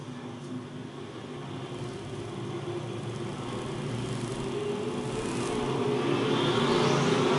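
USRA A and B modified stock cars race down the front straightaway at Lakeside Speedway, a continuous roar of engines building steadily louder over 7 seconds with no talk.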